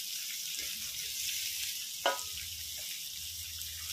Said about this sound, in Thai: ผัดไปเรื่อยๆครับ